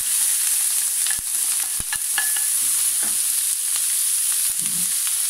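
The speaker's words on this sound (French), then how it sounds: "On va commencer par cuire d'abord les légumes." Diced red pepper and onion sizzle in a hot pan as vegetables for a creamy chicken pasta bake, a steady frying hiss broken by a few sharp scraping clicks of stirring, close and alone.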